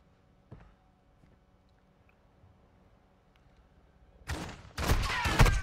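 Gunfire in the DMZ mode of Call of Duty, a couple of faint early shots followed by loud rapid bursts of automatic fire near the end, close and dense.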